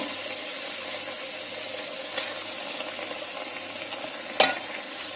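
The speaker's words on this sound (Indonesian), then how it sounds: "Kita aduk dengan bumbu sampai bercampur rata." Beef being stirred with spices in a cooking pan for a brothy dish, giving a steady, even sizzle with soft scraping of the utensil and one brief louder clink near the end, with no talking.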